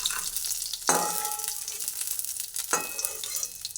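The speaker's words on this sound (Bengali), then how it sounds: "ভেজে নেওয়ার পরে এবার আমি তেল ধরিয়ে এই ড্রাই ফ্রুটগুলোকে তুলে নিচ্ছি" Dry fruits fry in hot oil for Gobindobhog rice payesh, giving a steady, close sizzle with two sharper crackling bursts and no talk.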